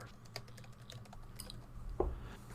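Computer keyboard typing, a few soft scattered keystrokes close by, with one firmer click near the end over a low background hum.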